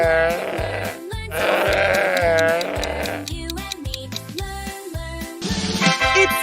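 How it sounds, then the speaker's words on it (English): A sheep bleats in several wavering calls over a rhythmic, bouncy children's music backing, the bleats loud and prominent. "It's a sheep."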